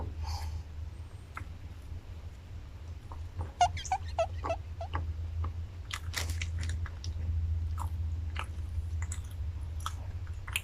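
A market-bought steamed pork bun with minced pork and salted egg being eaten up close, with soft irregular chewing and smacking sounds over a low steady hum.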